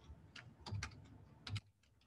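Typing on a computer keyboard during an algebra lecture, a short quiet burst of several distinct key clicks in an uneven rhythm, close to the microphone with no talking.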